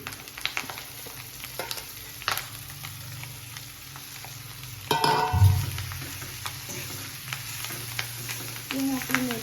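Green chili sizzling and frying in hot oil for a desi-style chil bhaji, a steady crackling hiss with a louder burst of sizzle and stirring midway.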